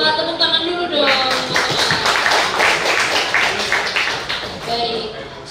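An audience at a public forum on trains and Jakarta gives a sustained round of applause, dense clapping rising after a moment and fading near the end, with a voice speaking over it.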